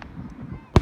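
A single Fourth of July firework bursts with a sharp, loud boom near the end, following a stretch of low rumble and quiet background.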